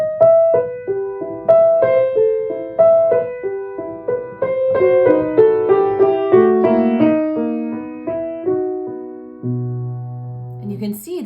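Solo piano playing Schumann's The First Loss, Opus 68 No. 16, a plaintive right-hand melody over answering left-hand notes, close and clear, ending on a low held chord.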